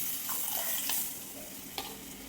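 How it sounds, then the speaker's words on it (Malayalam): Second coconut milk poured into a sizzling masala paste in a pan for a pearl spot fish dish, with a steady frying hiss, a few soft stirring scrapes and a brief splash. "അരപ്പൊക്കെ ഒന്ന് മൂത്ത് വന്ന സമയത്ത് തേങ്ങയുടെ 2-ാം പാലാണ് ചേർത്ത് കൊടുക്കുന്നത്."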